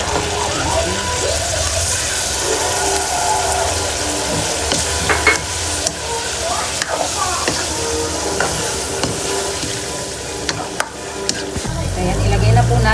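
Achuete (annatto) oil sizzles and pops in a cooking pot with squash for nilasing na baka, a loud, close frying hiss with scattered clicks and stirring scrapes running throughout.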